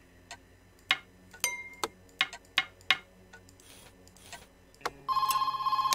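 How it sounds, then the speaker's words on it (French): In the point-and-click horror game Bad Dream: Coma, sharp clicks and ticks sound one by one before a telephone bell starts ringing loudly and continuously at the end. "Téléphone qui sonne."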